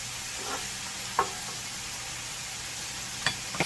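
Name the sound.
squid and vegetables stir-frying with chili powder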